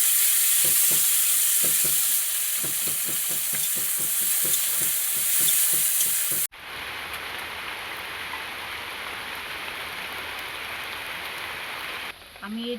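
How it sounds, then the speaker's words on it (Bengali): Sliced onions hit hot white oil in a pan and set off a loud, continuous sizzle with rhythmic stirring scrapes. The sizzle then drops to a steadier, slightly quieter frying hiss. "এই তেলের মধ্যে আমি পেঁয়াজগুলো দিয়ে দেবো।"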